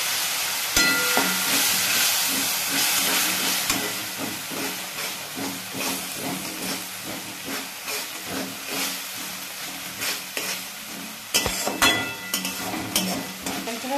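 A splash of water hits a hot pan of frying spices, setting off a loud steaming hiss and sizzle that carries on with stirring scrapes and pops, close by and without speech.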